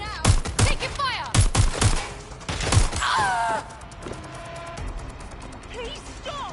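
Gunfire in Watch Dogs: Legion, several loud close bursts of rapid shots in the first few seconds, then a quieter tail with voices talking over it.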